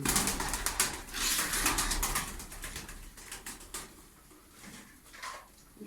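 Pigeons coo softly in a bird loft, their low murmuring mixed with intermittent fluttering and pattering, gentle and steady with no voices.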